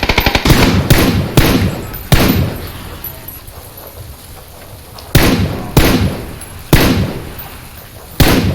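Automatic gunfire in PUBG, loud close bursts of rapid shots coming in several clusters with quieter gaps between them, no one talking.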